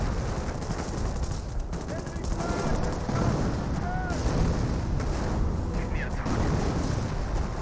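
Company of Heroes battle with Black 88 artillery fire: a dense, continuous rumble of distant booms and gunfire blended into a loud wash, with a voice talking over it.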